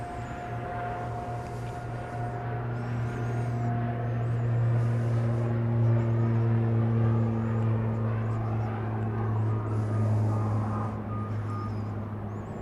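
Pilatus aircraft taking off at Dallas Love Field, a steady droning engine tone with a constant hum that swells and holds at moderate distance, overlaid by faint high beeping.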